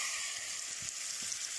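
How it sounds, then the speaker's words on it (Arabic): Peeled tomatoes cut into small pieces go into a hot pan for yellow koshari, giving a steady, close sizzle and fry with a few soft stirring knocks. "هنزل دلوقتي بالطماطمتين اللي انا مقشراهم"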